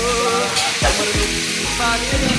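Cabbage and potatoes sizzle loudly as they are stir-fried in a pan, with steady frying hiss and a few scraping stirs close by.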